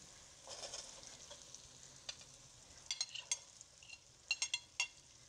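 Faint, steady sizzling of carrots frying in a pan for mixed vegetables, with a few light clinks of a utensil against the pan near the end.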